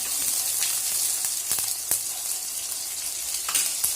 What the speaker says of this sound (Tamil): இங்கே கொஞ்சம் இஞ்சி பூண்டு பேஸ்ட் எடுத்து வச்சுருக்கேன், அதையும் போட்டுருங்க